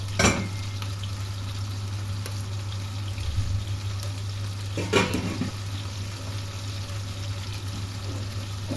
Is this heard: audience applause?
no